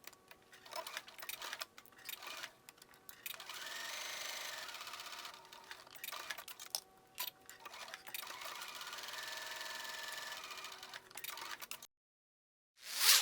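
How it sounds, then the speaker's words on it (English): A sewing machine stitches the shoulder seam of a woven tank top, starting and ending with a back stitch: close, steady rapid ticking runs of stitching with short pauses between them. "To sew the shoulder seam, we'll start and end with a back stitch."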